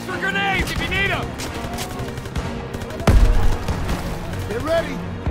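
Gunfire in the World War II shooter Call of Duty WW2 crackles in rapid bursts, with a heavy boom midway, while soldiers shout over the battle.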